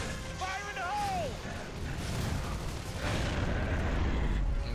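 Grenade explosion in Gears of War 3, a broad rumbling blast under ongoing gunfire and battle noise, with a brief voice and game sounds early on.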